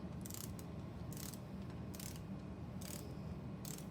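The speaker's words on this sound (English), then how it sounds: "So this is my Park torque wrench" A Park torque wrench tightens bicycle crank bolts with a steady series of sharp ratcheting clicks, about one burst per second, close and clear over a low background hum.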